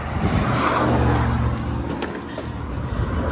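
A car drives past in a video game, its engine whir swelling loud and close, then easing off and fading as it moves away.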